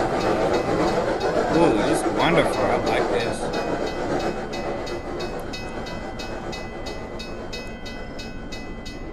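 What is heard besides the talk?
train passing by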